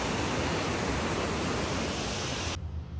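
A waterfall seen on a road trip in Georgia roars as steady, loud, broadband rushing water, close and unbroken, then cuts off abruptly near the end.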